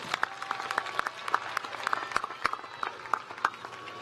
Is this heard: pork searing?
no